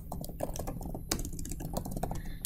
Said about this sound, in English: So I might type something up like this